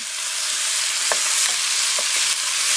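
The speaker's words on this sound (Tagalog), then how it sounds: "i-fry natin ng konti sa cooking oil" Spare ribs and chicken frying in cooking oil, a loud, dense, steady sizzle close by, with a few faint utensil clinks under the hiss and no talking.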